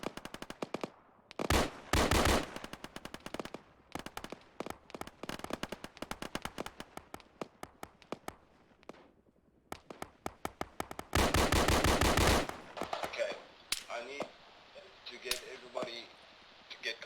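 Bursts of rapid machine gun fire in a military video game, long rattling volleys and sharp single cracks, loud and close, with voices talking between and over the shooting.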